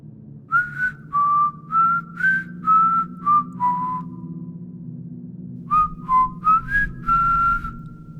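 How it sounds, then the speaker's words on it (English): A person whistles a slow run of sustained notes in two phrases separated by a pause, over a low steady hum and soft fire crackle. "Then, a whistle. Long, slow,"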